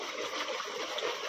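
Water overflows and gushes out of a borewell pipe on a farm, a continuous, fairly faint splashing rush with no clear breaks.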